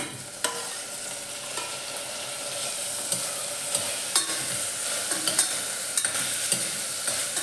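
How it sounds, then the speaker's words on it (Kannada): Tomatoes fry with onion in a pan for rajma, a soft steady sizzle under repeated scraping stirs and occasional sharp clicks of the spoon against the pan. "ಇವಾಗ ಇವಾಗ ಟೊಮೆಟೋನ ಸೇರಿಸ್ಕೊತಾ ಇದ್ದೀನಿ"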